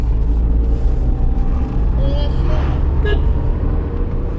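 A Tata Punch automatic climbs a Kodaikanal mountain road under throttle, its engine a steady low drone with road rumble inside the cabin while people talk over it.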